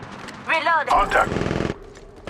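Gunfire in the mobile version of Apex Legends crackles in a short burst after a brief stretch of voice, followed by a faint single pop near the end.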